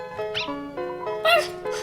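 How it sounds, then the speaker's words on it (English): A small dog gives a few short, high-pitched yipping barks with whimpering tones, close and fairly loud, with no one talking. "that was an adorable bark"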